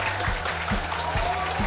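Steady applause from an audience at an in-person interview-prep lecture as the next instructor is welcomed, dense and continuous with no talking over it.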